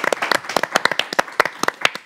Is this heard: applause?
yes